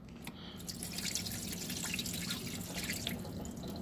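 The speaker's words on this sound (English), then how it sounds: "I'll put some water in here, and you can kind of see how it works now" Water poured onto the cab gutter of a first-generation Dodge truck, trickling steadily with fine, continuous drips and splashes up close, with no talking.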